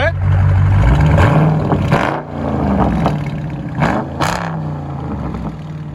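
A 2021 Dodge Charger Scat Pack widebody with a 6.4L HEMI V8 and dual straight-pipe exhaust revs loudly up close, with several sharp throttle blips rising and falling over a steady deep idle.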